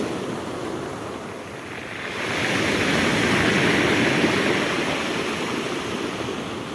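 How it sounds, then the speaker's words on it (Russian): Waves wash over a pebble beach at the Eshera sports base in Abkhazia, rolling stones with a steady hissing rumble that swells louder midway and then eases, close by, with no voices. "Буду слушать, как волна шумит камушками"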